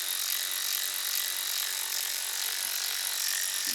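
A Ryobi 4V lithium cordless 3/8-inch ratchet runs with a steady high-pitched motor whine that stays even and close for the whole stretch, with no talking.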